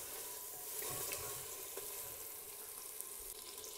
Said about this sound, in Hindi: जिंजर डाल के इसको मज़ीद 1 मिनट तक पकाएं